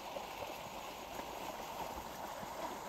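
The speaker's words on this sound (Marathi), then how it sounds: "आणि इथनं सगळं पाणी येतंय" Rainwater runs steadily off a relative's sugarcane field after heavy rain, a soft continuous wash and gurgle of flowing water at moderate distance with no break.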